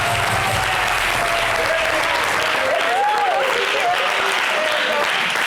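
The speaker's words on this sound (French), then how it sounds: "On applaudit encore." Sustained applause from a studio audience on a French-language television variety show, dense and steady throughout, with a voice faintly audible over the clapping.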